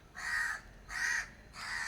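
Crow cawing as it is called to eat rice, three loud harsh caws in an even, spaced rhythm, fairly close and heard alone with no talking.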